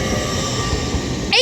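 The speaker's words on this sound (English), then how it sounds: "802-212 departs with the 1542 Transpennine Express service to Newcastle from Liverpool Lime Street." A Class 802 Transpennine Express train departing Newton-le-Willows station, its low rumbling wheel and traction noise steady and fairly loud throughout, with a brief higher squeal near the end.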